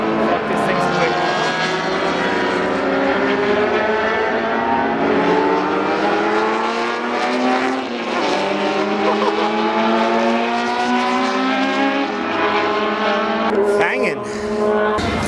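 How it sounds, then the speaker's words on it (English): Group C race cars lapping Fuji Speedway in Japan during a festival, with a loud, continuous engine roar of several cars whose pitch rises and falls through gear changes for the whole stretch, close and steady, and a brief thump near the end. "So while we were eating, the Group C cars have come out."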